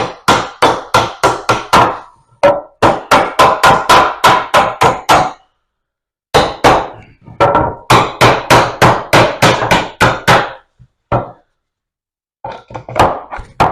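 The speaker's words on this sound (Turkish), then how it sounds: "Bu şekilde de çivilerimizi söküyoruz." Sharp, loud hammer blows ring out on a wooden pallet as nails are knocked back out, coming in fast rhythmic bursts of a dozen or so strikes separated by short pauses.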